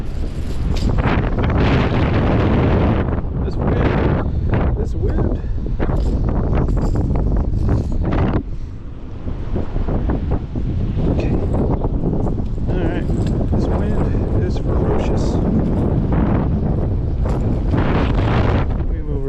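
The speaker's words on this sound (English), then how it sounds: "maybe it's blocking the wind from me a little bit" Strong, steady wind buffets the microphone outdoors on an early spring fishing trip, a loud continuous roar with gusty surges that dips briefly partway through.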